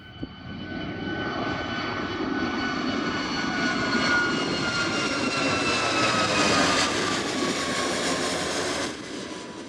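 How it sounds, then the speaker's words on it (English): Jet airliner taking off near the airport and passing overhead, a loud, steady roar that swells and holds for several seconds with a rising whine, then cuts off. "if you like watching airplanes take off, get there a little early because they fly right overhead"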